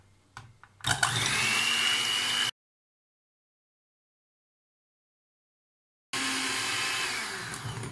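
An electric mixer whips three egg whites with lemon juice, a steady loud whirring drone after a few clicks and bumps, cutting out entirely for several seconds before resuming.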